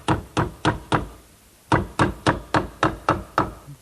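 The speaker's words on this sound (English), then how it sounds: "now I'm going to try a little scrap of wood which is equal in thickness to the headboard pieces and just tap it in place" A small scrap of wood, matched in thickness to the headboard pieces, is tapped into a mortise on a turned post bed: a run of four sharp knocks, a brief pause, then seven more in a steady rhythm, close and clear with no talking.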